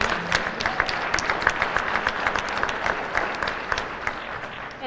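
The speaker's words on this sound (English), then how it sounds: "So give a round of applause for Diet." A crowd at the 2022 State of the City address in Jackson, Michigan applauds a city employee, steady, moderately loud clapping lasting several seconds from a medium-sized audience.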